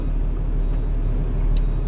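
A truck engine runs at a steady low idle in the cab as the gearshift goes into first, giving a constant close rumble with a brief faint click near the end and no voices.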